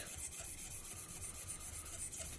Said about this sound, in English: Just quickly, a couple, 2 or 3 trips up and down the blade.